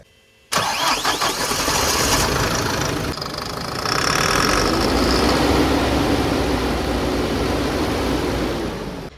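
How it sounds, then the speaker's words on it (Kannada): A vehicle engine catches abruptly after a moment of quiet and settles into a loud, close, knocking idle, with the revs rising slightly midway. "ಸುಮಾರು ಹೊತ್ತಾದ್ಮೇಲೆ ಮತ್ತೆ ಸ್ಟಾರ್ಟ್ ಮಾಡಿ ಟ್ರೈ ಮಾಡುವ"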